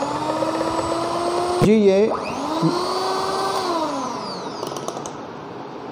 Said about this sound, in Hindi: 250 ग्राम को मिक्सर की मदद से अब हमने हल कर देना है